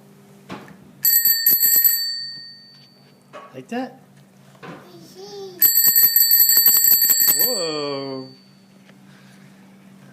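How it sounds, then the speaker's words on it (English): Bicycle bell rings in two bright, sustained bursts of rapid trilling dings, close and loud, with a child and an adult talking briefly between them. "Yeah, that's the bell."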